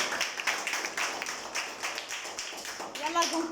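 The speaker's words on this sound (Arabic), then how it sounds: "يلا صفقوا لها الفاطمه" A primary-school class claps for a student in a science lesson, the irregular, light hand claps tapping unevenly close by, with children's voices chiming in near the end.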